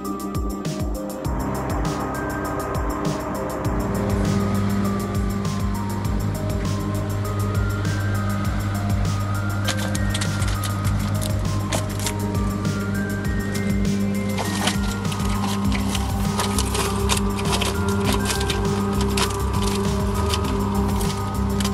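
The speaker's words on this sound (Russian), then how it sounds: "Подождите 6 секунд и запустите двигатель." Electric motor of a Viking GE 355 garden shredder starting up and then running steadily, a loud continuous hum with a rising whine and mechanical rattle that holds for about twenty seconds without talk.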